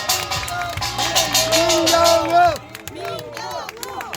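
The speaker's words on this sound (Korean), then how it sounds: "감사합니다, 여러분. 박수!" A crowd at a political rally applauds, a dense wash of clapping and cheering that fades after a few seconds while a voice speaks loudly over it.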